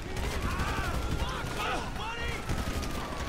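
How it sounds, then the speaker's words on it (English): Rapid gunfire in Grand Theft Auto 5 Online, played in first person, crackles as bursts of shots under ongoing game noise, with someone talking over parts of it. "Boy, don't be shooting at me like that."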